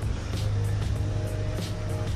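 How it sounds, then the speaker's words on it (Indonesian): Cars queue at the entrance to a drag bike event paddock in Surabaya, a low steady engine idle and hum close by with faint traffic around it. "Ini mobil-mobil mengantri untuk masuk nih si area pedok."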